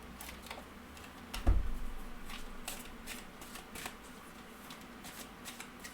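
Journey of Love oracle cards being shuffled by hand: faint papery riffles and soft taps, with one sharper knock near the start, quiet and close with no voices.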